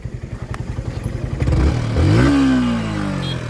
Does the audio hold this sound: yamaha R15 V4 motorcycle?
yes